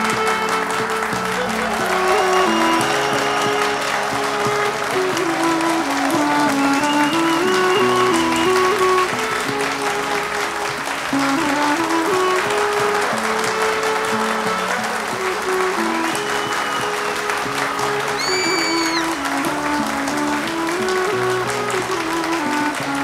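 Audience applause at a Turkish television show presentation, a steady dense roar of clapping that stays loud throughout, with melodic music playing underneath.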